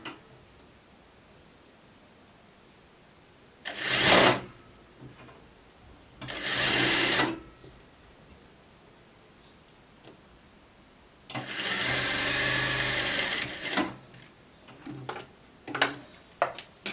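A sewing machine stitches a sleeve in short bursts of rapid mechanical whirring, separated by quiet pauses, with a longer run near the middle and a few brief clicks toward the end.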